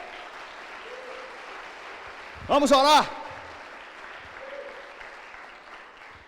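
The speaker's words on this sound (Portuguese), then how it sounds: "bata as palmas para Ele" A church congregation claps through a continuous wash of hand-claps during a Portuguese-language service, while a voice speaks briefly and loudly over the clapping midway.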